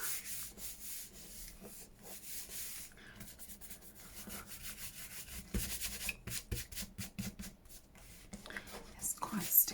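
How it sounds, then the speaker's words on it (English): A hand rubs bits of glue off a junk journal page, giving quick bursts of dry, scratchy friction that pulse in rapid strokes and grow faster toward the end, close up, with a voice talking now and then. "Just rubbing it because I've obviously got bits of glue."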